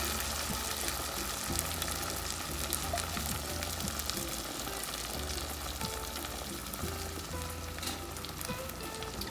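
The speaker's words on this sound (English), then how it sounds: "Toss our canned beans in. Let those get a little warm." Canned beans warming in a hot pan for breakfast tostadas: a continuous, even sizzle and light crackle, close and steady throughout with no speech.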